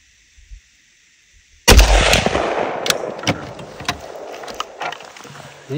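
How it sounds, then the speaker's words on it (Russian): A single sharp rifle shot cracks out after near silence, followed by a long rolling echo and scattered small noises outdoors. "И давайте делаю первый выстрел."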